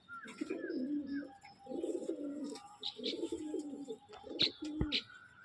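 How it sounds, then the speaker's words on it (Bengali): Pigeon cooing in repeated low rumbling phrases, close and moderately loud, a restless bird being handled in a loft, with a few brighter chirps from other birds near the end. "ভীষণই ছটফট পায়রা, হাতে থাকছে না সহজে"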